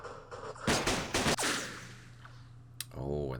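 A few sharp, close gunshot cracks from a sniper in the Vietnam war strategy game Campaign Series Vietnam, two or three loud reports early on, then a lone crack and a low rumble near the end.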